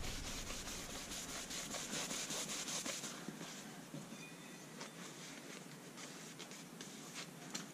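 Steady, soft rubbing and scraping of a cloth or blade over a soft Arkansas sharpening stone as the oil is wiped away, heard close and quiet with irregular strokes and no talking.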